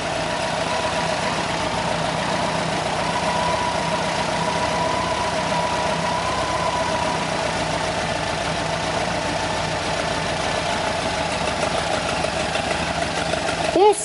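A Volkswagen Fusca 1600 with a variable-venturi carburetor idles at about 920 RPM, a steady, even mechanical hum with a faint rhythmic pulse that holds unchanged throughout, close to the microphone.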